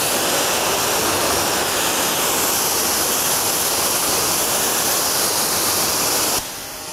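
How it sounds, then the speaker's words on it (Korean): Water sprayed onto a car panel freshly coated with Gyeon Quartz Mohs EVO ceramic coating: a loud, steady close hiss of spray for about six seconds that stops abruptly, leaving quiet background. "지금 바로 한번 물 뿌려 볼게요."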